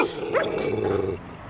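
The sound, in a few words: dog barking and growling at BMX rider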